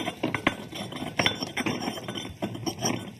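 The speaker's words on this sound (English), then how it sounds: "The mortar and pestle breaks down the fibers in the garlic and will create a nice creamy paste." A mortar and pestle grinds mustard, garlic and salt into a paste. It gives off a run of sharp, close knocks, clinks and scrapes in an uneven rhythm, with no voices.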